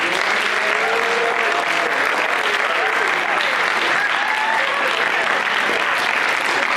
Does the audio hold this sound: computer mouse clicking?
no